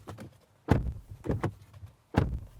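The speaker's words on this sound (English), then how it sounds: "And this is what your door slam sounds like." Doors of a Kia Tasman ute are shut several times, giving heavy, close thuds with short rumbling decay and quiet gaps between each slam.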